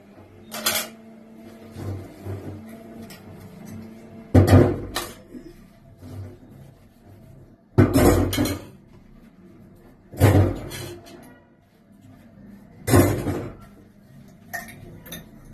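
Dishes, pots and pans being washed in a home kitchen, with several sharp clattering bursts of metal and crockery knocking together, separated by quieter stretches of running and handling noise.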